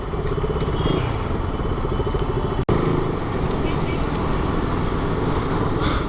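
A KTM RC 200 motorcycle ridden hard roars loud and close with a continuous engine drone that cuts out for an instant partway, then resumes, with wind and road rumble throughout.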